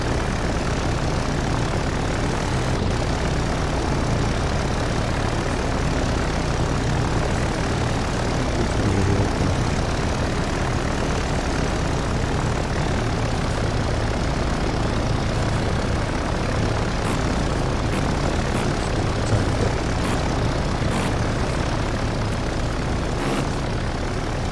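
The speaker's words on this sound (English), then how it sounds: "there's a couple of aircraft in the flight" Aircraft engines from the naval video game Victory At Sea Pacific, a steady, dense propeller drone that stays loud and unchanging throughout, with no talk.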